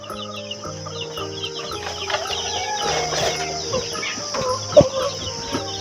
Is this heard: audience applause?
no